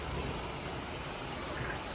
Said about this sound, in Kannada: ಭಾರಿ ಮಳೆ, ರಾಜ್ಯ ಕಂಡ ಮಳೆ